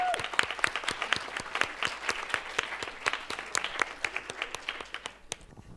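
Audience at a 2019 women-in-tech startup funding event applauding a partner welcomed to the stage, a close room of rhythmic, distinct claps that tapers off toward the end.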